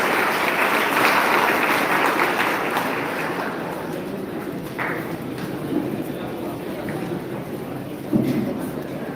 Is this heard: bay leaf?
no